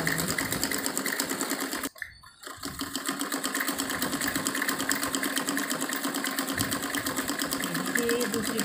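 Up close, a sewing machine stitches the folded hem of a shirt sleeve shortened from full to half length, humming in a steady run that pauses briefly near the start and then resumes evenly.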